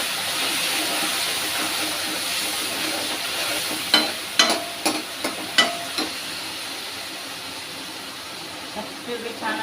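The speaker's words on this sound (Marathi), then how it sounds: "प्युरी छान अशी फ्राय करून घेऊ।" Masala puree fries with golden onions in a pan for a Marathi potato bhaji, giving a steady, close sizzling hiss, with a cluster of clinking stirring taps partway through.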